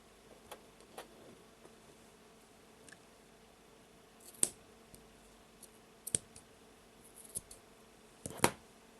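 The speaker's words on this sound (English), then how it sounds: "let's cut the cord" Scissors cutting friendship bracelet cord, a few soft, close snips and clicks spread across a quiet background.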